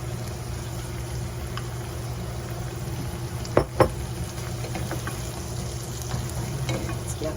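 Sauce bubbles steadily in a frying pan while a spatula scrapes and stirs it, giving a continuous sizzle with a few sharp scraping clicks near the middle.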